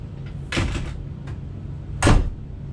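An RV entry door swinging shut, with a soft clatter of movement followed by a single firm thump, close by with no speech.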